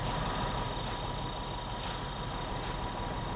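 A car engine idles in the horror video game Haunt with a steady constant low rumble and hum, close and unchanging, with faint periodic hiss pulses.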